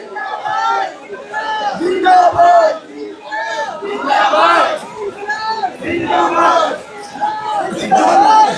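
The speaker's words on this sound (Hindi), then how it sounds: "आप देख सकते हैं जिस तरह से ये भीड़ सिर्फ आने वाली है और जाने वाली भीड़ है।" A protest crowd at Jantar Mantar in Delhi chants and shouts together in loud, rhythmic rising waves of many voices, close and filling the scene, on the day students faced a lathi charge and tear gas.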